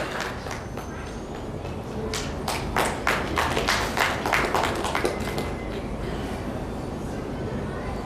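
An audience at a hotel association swearing-in ceremony bursts into loud applause that lasts about three seconds. The clapping peaks in the middle, then fades into a murmuring room.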